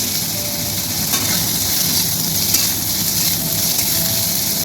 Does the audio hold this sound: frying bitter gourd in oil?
yes